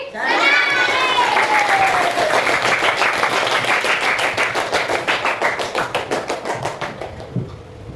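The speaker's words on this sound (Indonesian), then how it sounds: "kita beri tepuk tangan yang sangat lama" Children in a classroom clapping hands together, first mixed with excited shouts and squeals, then settling into a long run of rhythmic, unison claps that slow slightly toward the end.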